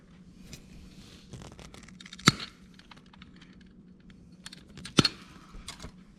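Electrical wires for a Plugmold low-profile power strip being cut, with two sharp, crisp snips of the cutter standing out over faint handling rustles and clicks at close range.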